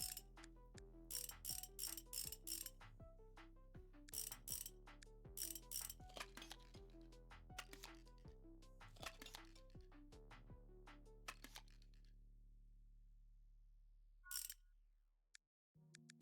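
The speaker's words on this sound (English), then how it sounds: "Let's go ahead and take the rear wheel off real quick." Mechanical clicks and ratcheting taps from undoing the rear-wheel wing nuts on a motorcycle in Motorcycle Mechanic Simulator 2021, arriving in short repeated bursts for about ten seconds, then quiet with one late click.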